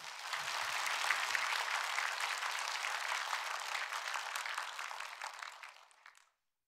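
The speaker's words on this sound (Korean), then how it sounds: "뜨거운 박수로 모시도록 하겠습니다" A church congregation breaks into warm, sustained applause to welcome the pastor, a dense wash of many hands clapping together. The clapping holds steady for several seconds, then thins and fades out.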